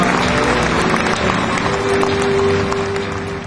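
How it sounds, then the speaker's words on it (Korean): Encouraging applause for a professor at a 2004 early entrance ceremony, a broad, sustained wash of crowd clapping filling a hall, with a faint steady tone partway through. "다시 한 번 더 격려 박수로 부탁드립니다"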